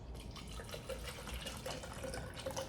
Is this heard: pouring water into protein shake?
yes